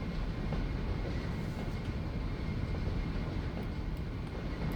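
Trains roll in and out of a rail network in the city-building game Cities Skylines, giving a steady, even low rumble that carries on without a break and with no talk over it.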